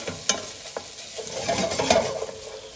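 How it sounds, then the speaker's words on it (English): Curry paste cooking off in a pan for a yellow pork curry, with a steady sizzling hiss and scraping stir strokes from a spoon against the pan, close and moderately loud. "at this point our paste is being cooked off now"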